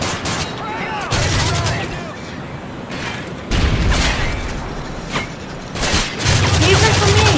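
Shotgun blasts and gunfire in Modern Warfare 3 Survival Mode split-screen play, loud repeated booming shots at irregular intervals with people talking over them.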